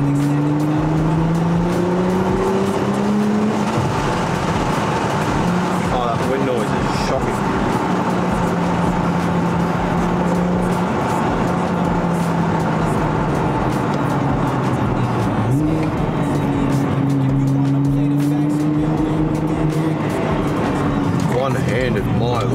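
A Nissan GT-R drives along with a steady engine drone and shifting pitch sweeps as it accelerates and changes gear, the sound close and continuous, with someone talking over it.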